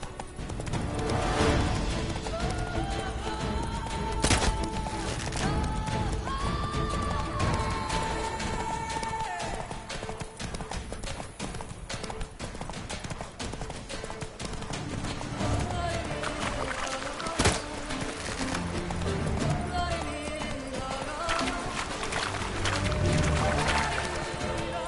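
Roach, a horse in The Witcher 3: Wild Hunt (Blood and Wine), gallops with steady rhythmic clip-clop hoofbeats throughout, close and fairly loud over background game music and ambience.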